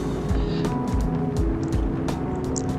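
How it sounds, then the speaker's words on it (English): Aussie V8 race car in Assetto Corsa on the Longford 1967 track, its engine screaming loud and close on a straight with repeated rising rev sweeps through the gears. "And you hear that nice Aussie V8 scream, like they all do."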